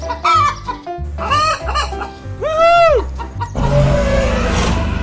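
Loud chicken clucks and squawks close by, several rising and falling calls in a row, followed by a burst of rustling noise.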